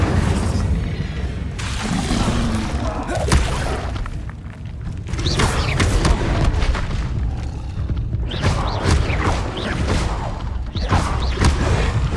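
Incendio fire spell cast repeatedly during Hogwarts Legacy gameplay, producing loud booming, thudding bursts with crashing impacts that recur throughout amid dense game effects and no speech.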